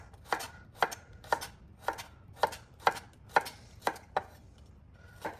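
A knife chops through vegetables on a board, ten crisp, evenly spaced strikes in steady rhythm, close and clear with no talking.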